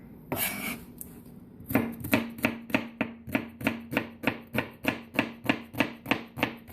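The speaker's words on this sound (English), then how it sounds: "how in the world do you chop your onions so fine without using a food processor?" A knife chops onions finely on a cutting board for broccoli cheddar soup, making quick, evenly spaced crisp taps close by after a short scrape.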